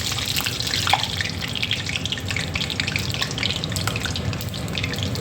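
Battered cauliflower pakoras fry in hot oil, giving a continuous, dense sizzle and crackle that stays steady and close throughout.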